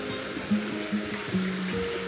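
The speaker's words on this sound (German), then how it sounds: "Hier ist ein kleiner Bach." A small brook in a park setting flows steadily, a soft continuous trickle and wash close by, with a few low tonal bumps riding over the even water noise for about two seconds.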